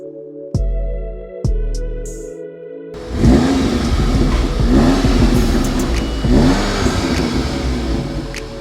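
A stage 1 ECU and TCU remapped Audi S3 2.0 Sportback Quattro revs loudly and close after a few short electronic beeps, the engine note rising and falling through repeated blips.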